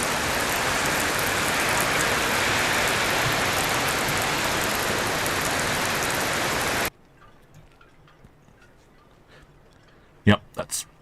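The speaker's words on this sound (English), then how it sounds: "It's really raining now." Heavy rain pours steadily and loudly on an outdoor microphone at the Port of Southampton, then cuts off abruptly to near silence broken by a few sharp knocks.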